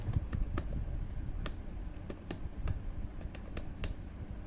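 Steady typing of data on a computer keyboard for spreadsheet work, with close, crisp keystrokes in an uneven rhythm that carries on throughout with no talking.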